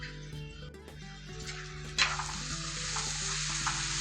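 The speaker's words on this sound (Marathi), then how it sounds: "आता आपण जे मसाले घेतलेले आहेत ते टाकू आणि मिक्स करून घेऊ" Ground spices added to soft tomatoes frying in a pan and stirred in: a steady close sizzle that rises sharply at one point, with scraping stir sounds over a low background hum.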